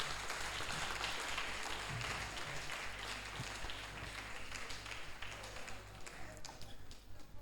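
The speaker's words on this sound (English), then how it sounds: "Please, a round of applause for her." An audience bursts into dense, sustained applause with many hands clapping at once, steady and full before easing slightly toward the end.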